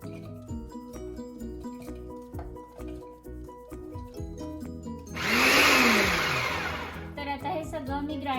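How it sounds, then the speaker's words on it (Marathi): An electric kitchen mixer grinder whirs loudly for about two seconds while grinding green chili, garlic, ginger and coriander, breaking in over background music that plays before and after. "तर आता हे सगळं मिक्सरमध्ये मी अशी टाकतेय"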